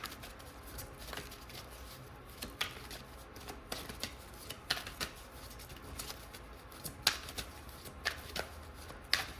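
A deck of angel cards being shuffled by hand, soft papery riffles and flicks in irregular bursts, close and fairly quiet, with no talking.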